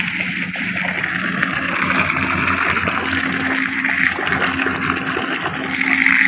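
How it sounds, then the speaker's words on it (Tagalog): Water flowing steadily near rice fields in a rural village, a constant rushing wash with a low mechanical drone underneath, unbroken for several seconds and free of talk. "Flowing water yan, ha?"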